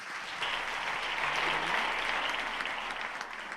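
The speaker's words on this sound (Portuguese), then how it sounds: "Você pode aplaudir Jesus?" Steady applause from a church congregation during a celebration service, a sustained wash of many hands clapping with no talk over it.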